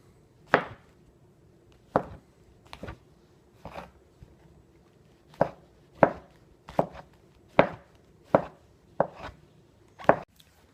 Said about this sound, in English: we'll grab the knife and we'll chop down thin slices until we're done cutting all the mushrooms